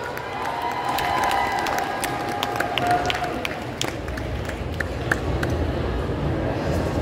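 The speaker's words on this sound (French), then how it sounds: "On les applaudit bien fort." A convention crowd at the Paris Manga & Sci-Fi Show cosplay contest applauds an Alice in Wonderland group, with loud, sustained clapping and cheering over a low hall rumble and scattered shouts.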